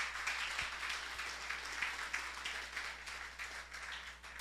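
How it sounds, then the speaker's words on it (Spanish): A church congregation claps together, a fairly faint, steady patter of many hands sounding from across a large room. "puedes rendirle una fuerte ofrenda de aplausos"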